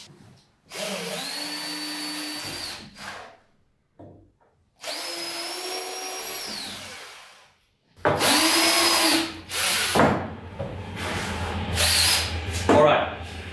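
A power drill whines up to speed in several bursts, then grinds noisily through wood, close and loud, with short pauses between runs.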